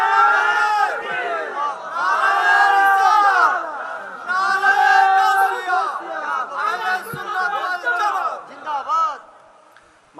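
Students at an outdoor religious gathering in Anwara, Chattogram, shouting a slogan in unison, loud rhythmic group chants with pauses between lines, trailing off at the end.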